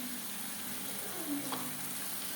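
Red chili frying in masala for kadhi, a constant dense sizzle with a faint stir partway through.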